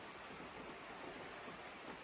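Heavy rain pours down in the mountains during a backpacking trip, a continuous, dense hiss of falling water with no pauses, steady and fairly quiet.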